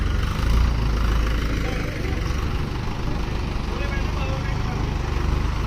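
A tractor engine chugs steadily nearby with a low, throbbing drone that holds throughout, mixed with faint background activity.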